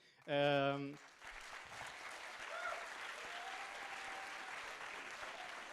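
A general assembly audience clapping to welcome the local group Bergen, a brief tone sounding first, then a broad, moderate wash of applause holding steady to the end.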